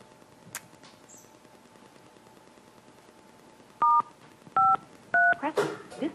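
Telephone keypad tones dialing into a teleconference: three short, loud two-tone beeps about half a second apart, with faint room noise and a brief click beforehand.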